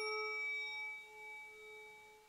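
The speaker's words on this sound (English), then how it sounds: "And I've got a 432 hertz chime." A 432 Hz chime rings in an anechoic chamber, its steady tone already sounding at the start and decaying slowly over about two seconds, fairly faint and alone.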